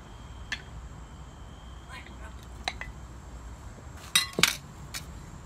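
Stirring shrimp into a pot of Thai Tom Yum soup with tomatoes, a few light clinks of utensil against the pot and a cluster of sharper metallic knocks near the end, with soft talking throughout.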